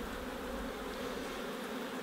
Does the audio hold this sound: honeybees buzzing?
yes